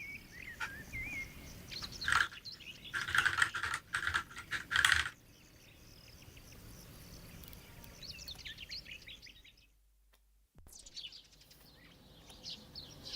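Computer keyboard keys clacking during a live-coding session, a dense burst of fast typing clicks in the first seconds, then quieter scattered keystrokes, with a brief silent dropout near the end.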